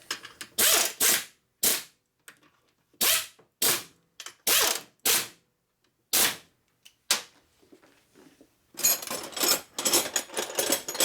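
An air-powered wrench or ratchet works bolts on a Harley Sportster 650 single engine being rebuilt, with bursts of loud rattling hammering separated by short silences, then a longer continuous run near the end.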